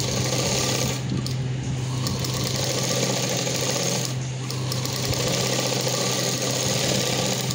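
A sewing machine runs steadily while stitching a short frock, a continuous close mechanical whir with a faint hum and brief dips in tone, with no talking.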